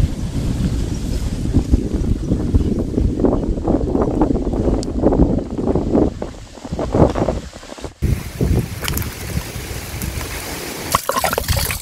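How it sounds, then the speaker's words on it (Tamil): Strong wind gusts outdoors at an open-air cooking spot, roaring continuously across the microphone in loud, buffeting waves with a brief drop partway through. "காத்து சரியான காத்து அடிக்குது"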